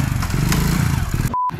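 A motorcycle engine runs steadily after a choke start, giving a close, rough idling rumble with faint clatter for about a second before a brief electronic beep.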